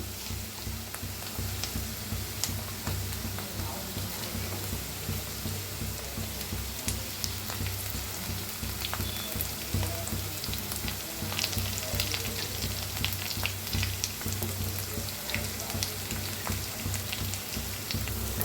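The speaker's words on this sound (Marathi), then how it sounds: "आता कांदा छान भाजायला लागलाय, त्याच्यातच टाकूया आपण हिरवी मिरची ठेचा करून घेतला होता ती।" Onion and crushed green chili frying in a pan for a traditional Maharashtrian ambadi leaf bhaji: steady dense sizzling and crackling throughout, moderately loud and close, with no talk.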